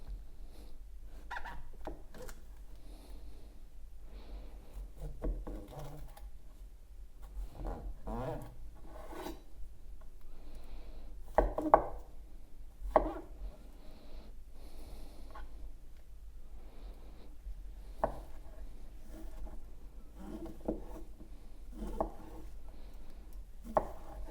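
Knife on a cutting board chopping and slicing vegetables for lasagna, quiet close-up cuts and scrapes in uneven bursts, with soft rustling between strokes and no talking.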